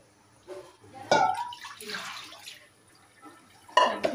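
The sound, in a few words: water rinsing fish while cleaning it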